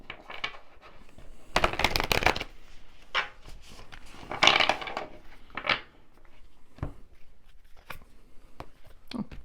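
Tarot cards being shuffled by hand, a few bursts of riffling and sliding with quieter soft handling and small taps between them, close and fairly faint.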